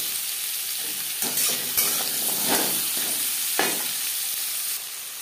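A vegetarian Bengali spinach curry is stirred in a frying pan, with a steady sizzle broken by a few scraping strokes of the spoon, close and fairly loud, with no talk.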